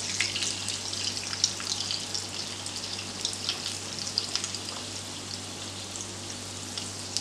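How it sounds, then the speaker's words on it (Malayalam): Stuffed banana pieces frying in hot oil, a steady close crackling sizzle with scattered sharper pops, continuous and alone without talk. "അപ്പോൾ ഓയിൽ ചൂടായി ഞാനിതിലേക്ക് ഓരോന്നോരോന്നായി വെച്ച് കൊടുക്കുകയാണ്"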